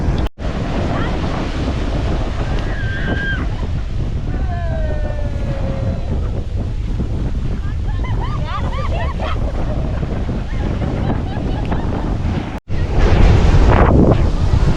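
Steady ocean surf at Lemur Beach, also called Muttom Beach, in Kanyakumari, a continuous wash of breaking waves mixed with heavy wind buffeting the microphone, with faint voices in the background.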